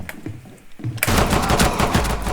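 Rapid automatic gunfire in Rainbow Six Siege bursts in loudly after a quieter opening, a dense sustained volley of shots crowding the close mix.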